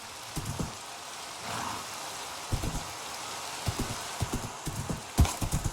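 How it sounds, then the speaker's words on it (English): Steady rain hisses in the Minecraft video game while clustered hoof-like clip-clop thuds tap irregularly in the foreground, fairly quiet overall with no speech. "Why is it always raining?"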